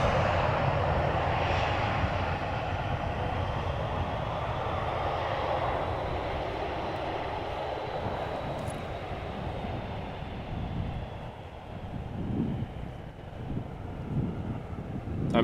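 An airliner at Amsterdam Schiphol Airport gives a steady, distant jet-engine roar mixed with wind buffeting on the microphone, swelling and fading slightly over the span.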